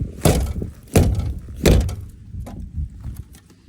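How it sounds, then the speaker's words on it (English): The frozen door of a 1997 Ford F-250 7.3 Powerstroke truck gives three heavy thunks as it is yanked loose in cold weather, followed by quieter rattles and knocks as it swings open, close by with no talking. "This door's probably frozen shut."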